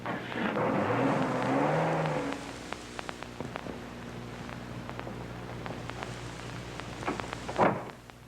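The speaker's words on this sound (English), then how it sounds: "She left in the car, didn't she?" A 1950s car starts with a rumbling engine rev and roll that fades out after a couple of seconds, followed by faint rain-like hiss, scattered ticks and a brief louder rustle near the end; no voices.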